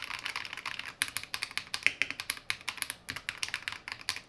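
Typing on a modded Royal Kludge RK84 mechanical keyboard fitted with vintage white switches: a steady, close run of crisp, poppy keystrokes, fairly quiet, with no voices.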